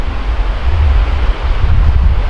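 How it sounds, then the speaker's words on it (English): Floodwater roars through a drainage area beside California Highway 154, a steady, loud, close rushing wash mixed with wind buffeting the microphone, with no voices. "The water's been raging through here"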